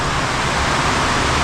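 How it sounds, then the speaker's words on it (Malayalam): Heavy rain pours steadily outside at a hill resort in Vagamon, a dense, even hiss with no pauses or voices. "പുറത്ത് നല്ല മഴ കേട്ടോ"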